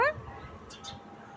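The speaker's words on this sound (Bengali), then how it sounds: "এই দুষ্টু পাখি ডাকে" A pet myna bird calls with a short whistling note, then two harsh squawks in quick succession, faint and close in a quiet room.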